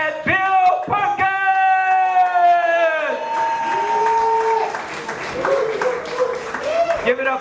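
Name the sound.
crowd applauding introduction of Bill Perkins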